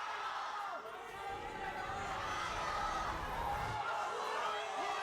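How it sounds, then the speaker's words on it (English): An esports arena crowd in Shanghai at an LPL Spring 2023 League of Legends match between FunPlus Phoenix and Ultra Prime cheers and shouts in a distant, muffled wash, swelling briefly near the end before settling back. "It's just people screaming random stuff."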